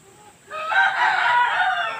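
Chickens on a farm, with a brooding hen sitting on eggs nearby, give a loud, sustained rooster crow that rises after a quiet half-second and carries to the end, with possible clucking mixed in.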